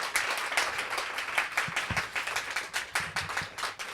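An audience claps together after a literary reading, a steady patter of many hands that carries on for several seconds at moderate volume, with no clear talk.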